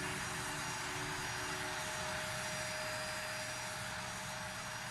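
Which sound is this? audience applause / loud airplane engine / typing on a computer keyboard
loud airplane engine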